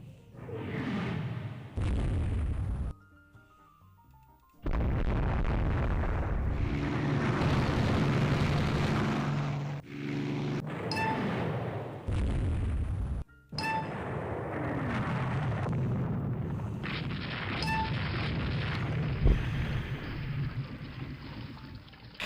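Missile hits in the naval war game Rule the Waves 3 land as several heavy, booming blasts with abrupt starts and cutoffs, separated by short quiet gaps and some metallic clanging.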